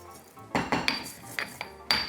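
Spices ground and pounded in a Sichuan kitchen for mapo tofu, with a handful of sharp hard knocks and clinks in irregular rhythm, close and fairly loud.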